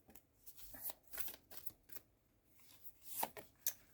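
Tarot cards being shuffled by hand: soft, close riffling bursts and taps in an irregular rhythm, faint and alone with no speech.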